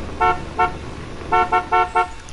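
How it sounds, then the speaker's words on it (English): A car horn in the video game Fortnite honks in short bursts: two quick toots, a pause, then four more in a row, loud and close over a low steady background. "I could honk the horn."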